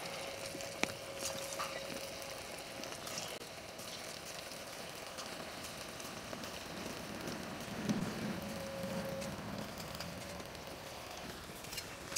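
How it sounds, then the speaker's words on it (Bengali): Pieces of leftover flatbread fry in hot oil for a veg 65 style dish, giving a faint, steady, rain-like crackle and bubbling that stays even throughout, with no voices. "এবার তেলে আমি ভেজে আনবো"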